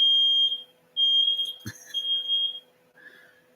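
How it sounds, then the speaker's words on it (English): A fire alarm sounds indoors in high, piercing electronic tones that repeat in bursts with short gaps, loud and close, over a low steady hum and a brief thump. "It's only a fire alarm."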